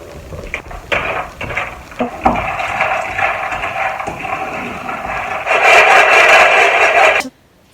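Peanuts being roasted and stirred in a pan at home, giving irregular scraping and clattering that turn into a louder steady rattle toward the end.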